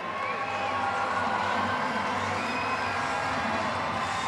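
A home-state crowd at the Bassmaster Classic weigh-in at Lake Ray Roberts, Texas, cheering loudly for an angler, a sustained roar of voices and whoops at a steady level, distant and reverberant.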